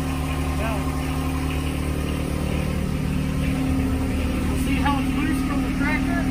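A John Deere 1025R compact tractor engine runs at a steady idle close by, a constant droning rumble, while people talk over it.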